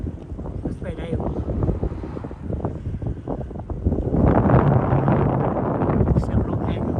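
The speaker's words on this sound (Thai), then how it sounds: "เสียงลมแห้ง" Wind buffets the microphone during a bike ride in Brooklyn Park, Minnesota, a steady dry rushing roar that swells louder in the second half, with rumbling gusts throughout.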